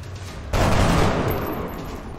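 A burst of rapid gunfire erupts in XCOM: Enemy Within, loud and close after a brief quiet lead-in, then rings out and slowly fades.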